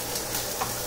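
Onions caramelizing in a pan give a steady close sizzle with the scrape of stirring, brief and continuous with no talk.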